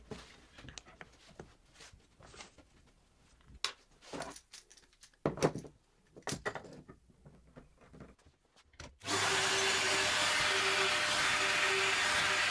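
A loose tenon jig is used for boring holes in wood, with scattered knocks and handling clatter before a loud, steady drill or router-like whine starts abruptly and runs to the end.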